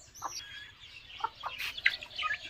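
Young chicken chicks peep and cheep close by in a short burst of scattered, high chirps over a faint low hum.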